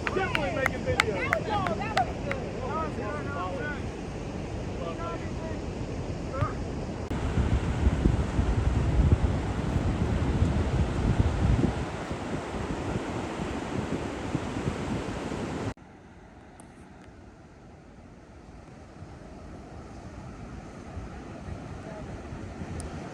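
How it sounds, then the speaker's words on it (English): Wind gusting steadily at a seaside camping spot, strong enough to keep a kite aloft, roaring and buffeting the microphone with surf-like rushing; people talk briefly at the start, and the gusts drop to a softer breeze near the end. "it's not so windy that it's unbearable, but it's just enough to keep a kite going."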